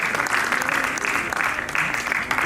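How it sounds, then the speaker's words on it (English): A loud, dense round of applause from an audience welcoming a doctor onto the stage at a session of a culture and environment protection commission, steady and sustained throughout. "hear a thunderous round of applause for our doctor"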